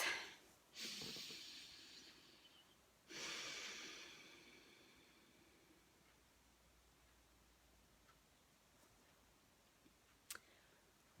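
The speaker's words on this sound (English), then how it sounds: "Deep breath." Two long, deep breaths taken slowly during a guided breathing exercise for stress relief, each a soft airy rush that swells and fades, with near silence between them and a couple of faint clicks toward the end.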